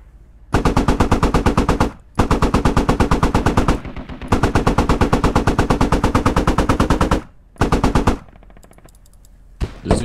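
Long sustained machine gun bursts in the military shooter game Squad, rapid evenly spaced shots in several extended strings separated by brief pauses, loud and close with no talk over them.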